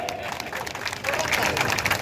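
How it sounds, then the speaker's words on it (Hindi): A political rally crowd breaks into scattered clapping that swells into fuller applause midway, with murmuring voices underneath. "अरे लगाओ ताली।"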